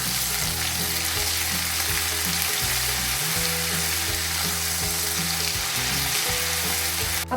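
Ginger garlic paste sizzles in hot oil with golden brown onions, a steady loud frying crackle that runs continuously throughout, with low stirring clatter underneath.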